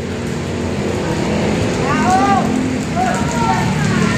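Steady, dense, very heavy rain hissing on surfaces at a work site on an esplanade where work has stopped, with a low engine rumble underneath and faint voices in the background.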